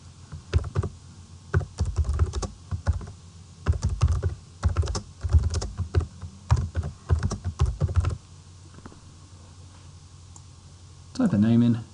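Bursts of rapid computer keyboard typing, close and crisp, with mouse clicks mixed in, ending in a pause and a short stretch of someone talking.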